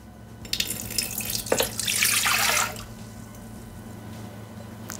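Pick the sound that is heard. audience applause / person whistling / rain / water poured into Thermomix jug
water poured into Thermomix jug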